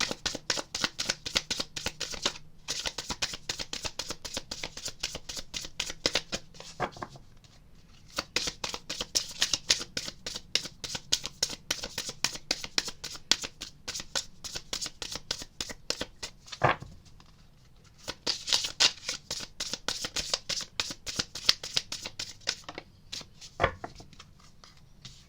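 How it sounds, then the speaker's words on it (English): A deck of tarot cards is shuffled loudly and close up, rapid riffling bursts in long runs separated by short pauses, with no talk over them. "Please excuse the loud shuffling."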